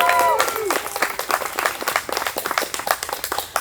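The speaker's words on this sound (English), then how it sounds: "Let's give her a round of applause." An audience claps for a scholarship award winner, a short burst of brisk, close applause with voices and cheering mixed in at the start.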